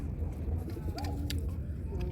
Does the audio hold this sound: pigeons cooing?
yes